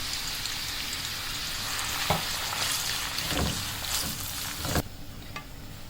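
Onions frying in hot oil in a kadai give a loud, steady sizzle with a few sharp crackles and stirring scrapes, and a sudden drop near the end, with no voice.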